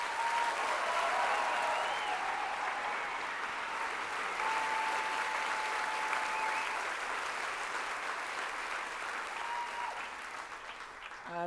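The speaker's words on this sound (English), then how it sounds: "Could we have one more round of applause" A room full of people clapping steadily for dancers, a continuous wash of applause that holds and then begins to thin toward the end.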